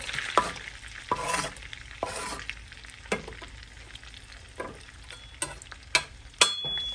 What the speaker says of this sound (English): We're going to take this celery right over to that melting butter.